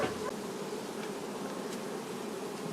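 A honeybee colony hums loudly at an open hive after the upper honey super is lifted off, a dense, steady buzz with a few nearer bees passing close.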